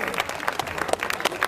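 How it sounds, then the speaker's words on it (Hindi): An audience at a cultural show applauds in a brief flurry of dense, overlapping claps at moderate loudness. "तालियां बबलू मैथ्यूज के लिए"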